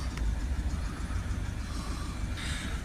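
A Citroen Relay 2.2 diesel van engine turning over and settling into a low, steady running rumble, close and fairly quiet, with no speech.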